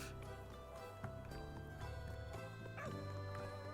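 A dog in a video game yips and barks a few times over a dense bed of game music and ambience.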